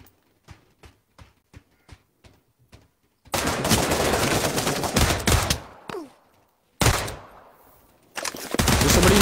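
Gunfire in the VR shooter Pavlov: a run of sharp, evenly spaced single shots, then loud, dense automatic bursts that cut off abruptly and resume, close and dominant.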